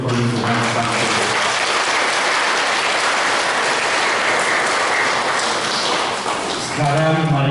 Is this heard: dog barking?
no